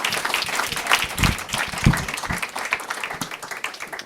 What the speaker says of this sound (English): Let's have another round of applause for everyone's presentations.